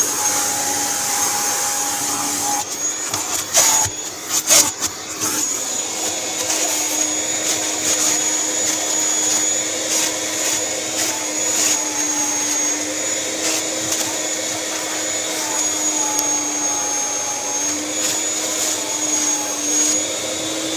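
A 1998 Kirby G5 vacuum cleaner with hose attached runs with a loud, continuous motor whine and roar, with a few brief knocks and clatters near the start.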